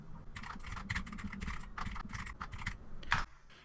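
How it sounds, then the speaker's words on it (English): Typing on a computer keyboard while the shift key is held down, a close, rapid run of uneven key clicks with short pauses and one louder final keystroke. "simply press and hold down the shift key and then start typing"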